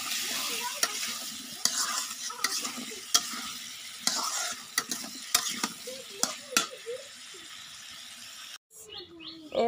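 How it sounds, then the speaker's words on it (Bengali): Spice paste for a fish curry frying in a pan while being stirred, a steady sizzle broken by repeated scraping stirs, with faint birdsong in the background and a brief voice near the end. "এই যে মশলাটা কষানো হয়ে গেছে"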